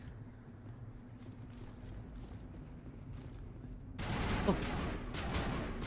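Video game gunfire in Mass Effect erupts as a dense burst of rapid shots after a quieter stretch of ambient game noise, loud and close, with a brief voice exclamation mixed in.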